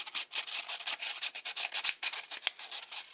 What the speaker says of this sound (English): So that's sanding those two sides down